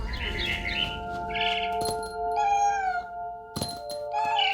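A cat meows several times in What Remains of Edith Finch. The calls come in short, bending bursts over a quiet sustained music bed, with a couple of dull thumps and faint bird chirps between them.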